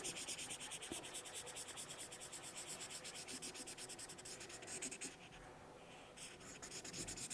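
Crayon or marker rubs steadily across paper while a paper honey bee craft is colored in, a continuous close scratchy scrubbing with fast back-and-forth strokes and no talk.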